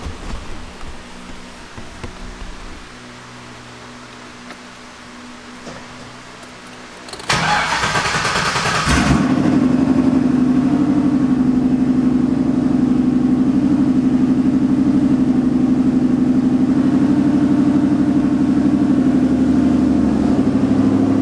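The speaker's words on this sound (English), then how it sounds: "let's see if the motor sounds good after this oil change." A car engine cranks and fires after an oil change: a roughly two-second whirring crank, then a catch and a steady, close idle with a strong low hum that runs on evenly to the end.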